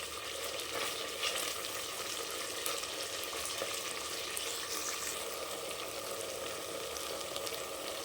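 Masala frying in oil for an egg gravy while being stirred, a steady broad sizzle throughout with occasional scrapes of the spoon, close and fairly loud with no voices.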